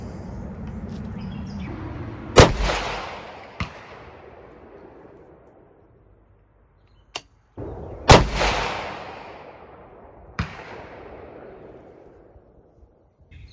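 Three sharp rifle shots crack loudly outdoors at a shooting range, each followed by a long rolling echo. Two fainter impacts or pops come between them, and the scope on the rifle is a Discovery ED PRS 5-25x56 SFIR.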